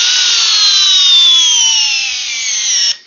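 A DeWalt DCD1800 drill on a 1.7 Ah PowerStack battery runs in one loud, steady whine under load during a torque test, the pitch sagging slowly before it cuts off abruptly.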